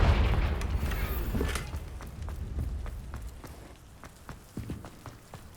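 A Confringo fire spell detonates in Hogwarts Legacy, opening with a loud, close boom that rolls off into a fading rumble, followed by light footsteps and small thuds.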